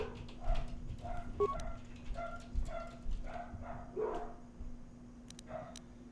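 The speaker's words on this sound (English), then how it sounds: "Sorry, damn dogs are barking away." Several dogs bark in the background, a string of repeated barks spread over a few seconds, moderately distant and faint, with no talk.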